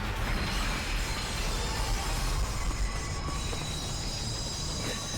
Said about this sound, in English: And the trains are still running.